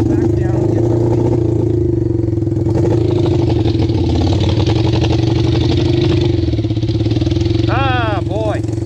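A 1974 Honda CL200 motorcycle engine runs while being ridden, a loud, close, steady drone with a throbbing mid-range pulse and slight clatter that holds throughout with no pauses.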